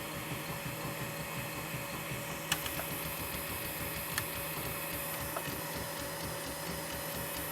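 An SK1 3D printer running at doubled print speed gives a steady, close mechanical hum and whir with constant motor tones, broken by a few sharp clicks or ticks along the way.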